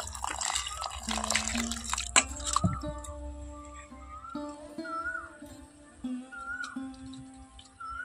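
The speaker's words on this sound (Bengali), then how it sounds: "এইদিকে আমি যে নিমকড়িগুলো রেখেছিলাম সেগুলোও জলের মধ্যে খুব ভালো করে পরিষ্কার করে নেব।" Neem flowers being washed in water, with splashing and swishing at the start, followed by scattered drips, clinks and small liquid sounds, close and fairly quiet, with no talk.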